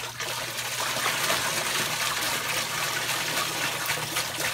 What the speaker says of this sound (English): sometimes it'll start pouring off one side of the window screen and all over the ground